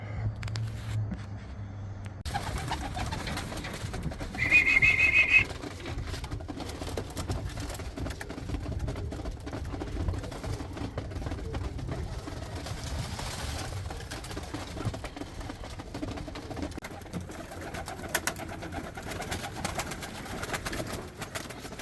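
Roller and Rakovnik pigeons in a newly built kit loft give soft, low, steady cooing throughout, with brief flutters and rustling and a louder burst of activity near the start, heard close with no talking.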